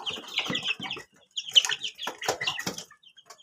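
Pet chickens in a small backyard cluck and squawk in quick bursts, and wings flap now and then, all close and fairly loud. A short lull falls about a second in before the calls pick up again.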